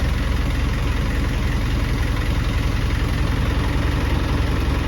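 A steady, loud Caterpillar 3408 turbo diesel engine idling close by, freshly assembled, a constant low rumbling chug with even vibration throughout.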